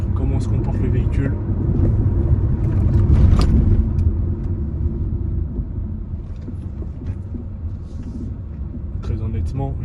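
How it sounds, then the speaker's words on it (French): Fiat 500X Live Edizione 1.6 E-Torq 110 hp 4x2 accelerating and braking, heard from inside as a low engine rumble that swells, then eases off, while someone talks throughout. "Là, je vais accélérer un petit peu et on va tester un petit peu au niveau du freinage, comment se comporte le véhicule."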